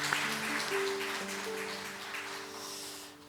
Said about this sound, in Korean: 우리 박수로 한번 또 인사하도록 하겠습니다.